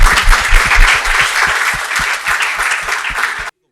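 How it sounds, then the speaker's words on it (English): An audience at a panel discussion claps in a dense burst of applause, many hands rattling together loudly before it cuts off abruptly. "give me a round of applause for that"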